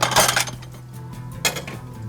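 A lid set down over a cooking pan in a kitchen, giving a sharp metallic clatter at the start and a second rattling clink a moment later, close and fairly loud.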